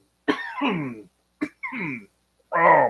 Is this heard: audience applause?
no